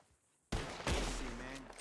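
A gunshot in Red Dead Redemption 2, a sudden loud close blast after a quiet moment, followed by a ringing, rumbling echo that slowly fades.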